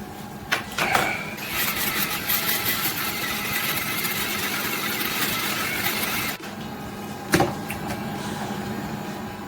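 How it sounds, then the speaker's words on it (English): Electric shaver buzzing steadily across a face, a continuous close mechanical hum with a couple of brief sharp clicks or knocks near the start and again toward the end, no talking. "And then I will shave my face."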